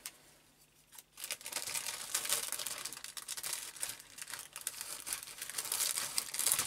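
Crinkly packaging on a Yamaha Vmax box being opened, heard as close, rustling crackles and crumpling that start abruptly after a quiet second and continue in irregular bursts.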